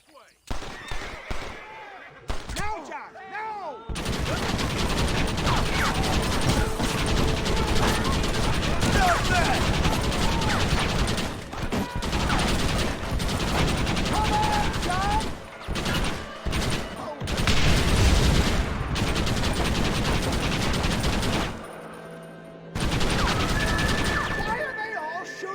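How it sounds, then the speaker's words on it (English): Heavy gunfire fills a cutscene from the video game Red Dead Redemption: sustained, loud volleys of rapid shots run for long stretches, broken by brief near-silent gaps. "Why are they all shooting at me?"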